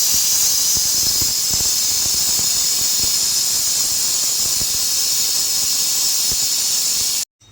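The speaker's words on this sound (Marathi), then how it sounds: "गॅसवर ठेवलेला आहे कुकर आता चार पाच शिट्या घ्यावाच्या" A pressure cooker on a gas stove, cooking dragon stalk yam (shevla) vegetable, lets out one long, loud, steady hissing whistle that runs unbroken for several seconds before cutting off abruptly.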